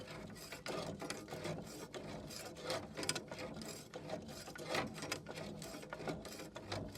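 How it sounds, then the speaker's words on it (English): A Land Rover Defender 110 front shock absorber is turned with a spanner and grips, giving faint continuous ratcheting, rasping metal rubs and small clicks, close up and without talk. "get on the damper body, locate the spanner, and just turn the shock like that."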